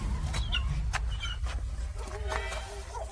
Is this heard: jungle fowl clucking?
yes